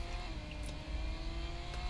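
A car engine hums steadily in a drag race in the Real Racing 3 video game, a faint, even drone with no voices.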